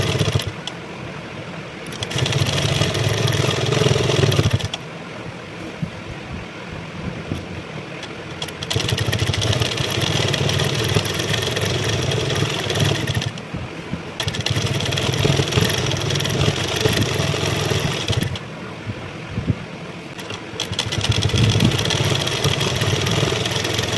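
An electric sewing machine runs a line of stitching along the folded-over top edge of a half saree, its steady motor whir running in several long bursts separated by short pauses.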